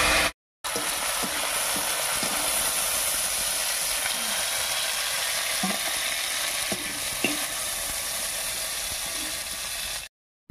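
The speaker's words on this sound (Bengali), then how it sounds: "চিংড়ি মাছগুলো হালকা করে ভেজে নিয়েছি," Prawns fry in hot oil, giving a steady, close hissing sizzle for about nine seconds, with occasional faint clicks of stirring.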